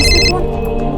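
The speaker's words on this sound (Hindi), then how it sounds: "गॉड, ऑफिस से फोन।" An office call comes through as a telephone ringtone, a short bright electronic ring that stops abruptly, followed by a low tonal hum.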